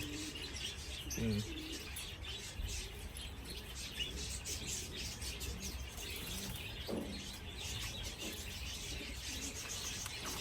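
Soft coos from racing pigeons and a few chirps from nearby birds over a low background hum, with faint rustling.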